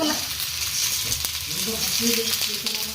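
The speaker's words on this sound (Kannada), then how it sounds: "ಇದ ತರ ಎಲ್ಲ ಮೀನಾನು ಫ್ರೈ ಮಾಡ್ಕೊಂಬಿಡೋಣ ಇದು ನೋಡು ಸ್ವಲ್ಪ ಎಣ್ಣೆ ಹಾಕೊಳ್ಳೋಣ" Rohu fish fries in oil in a pan with a steady, broadband sizzle and crackle throughout, with a few brief clinks of utensils.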